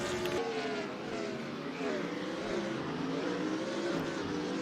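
Race car engine from a racing video game, driving down the main straight at Monza; a continuous, loud engine tone that shifts pitch as it revs, with no break across the clip.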